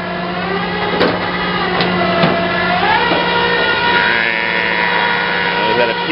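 A PTO winch with a hook and cable lifts a transmission out in the desert, its engine droning steadily and loudly with shifting pitch while people talk over it.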